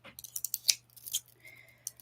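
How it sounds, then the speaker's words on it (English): Scissors snip quickly during a sewing and crafting session, a run of crisp, close metallic cuts in an irregular rhythm over a faint steady hum. "Scissors."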